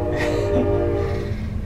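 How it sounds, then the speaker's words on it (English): A train passes nearby and rumbles steadily, with a low drone and sustained tonal hum that carries loud and unbroken through the whole short stretch. "Let the train get by for a minute."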